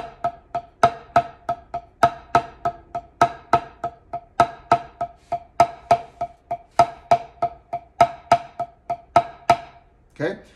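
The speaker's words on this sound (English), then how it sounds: "Now, if we add some samba swing to that, it's going to sound something like this" Drum playing samba subdivisions with swing, a steady stream of sharp strokes alternating loud accented hits and quieter unaccented ones in a lilting, uneven rhythm, ending with a brief cymbal-like wash.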